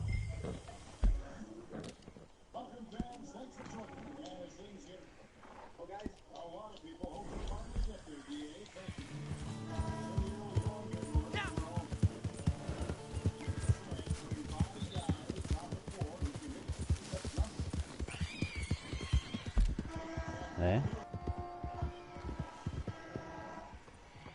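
Horse hooves clip-clopping under a rider, a rhythmic clatter of steps mixed with loud talking and other noise throughout.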